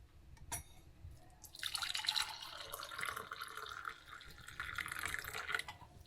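Water pours steadily into a coffee maker or cup for brewing coffee in a home kitchen, a soft continuous splashing stream for several seconds after a couple of light knocks, fairly quiet.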